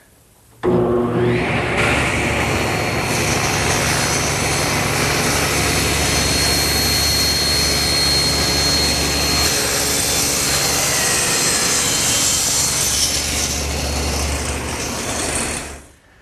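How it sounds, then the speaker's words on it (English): A table saw rips a board of wood using a homemade tapering jig, a loud, steady, whining cut running about fifteen seconds from start-up to spin-down, close and with no speech. "So to cut those, I'll use my homemade tapering jig, which has an infinite number of selections."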